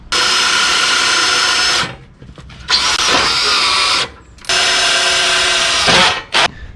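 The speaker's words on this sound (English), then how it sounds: "So we get to drill some holes in our no drill kit to make it right" A power drill bores holes into a floor while a no-drill kit is fitted with a foot pedal and flap, giving three long, loud, steady whining bursts separated by short pauses, close by with no talk.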